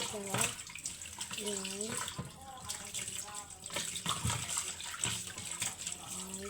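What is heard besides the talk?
water running from a tap into a container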